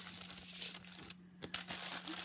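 Paper crinkles and rustles in short, close bursts as a birthday card envelope that arrived by mail is opened, with a brief pause midway.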